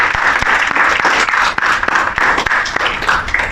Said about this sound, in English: let's give a round of applause just for that.